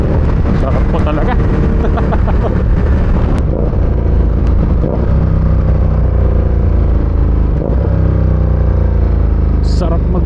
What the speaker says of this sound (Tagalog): Sarap mag-rev match talaga sa motor na to.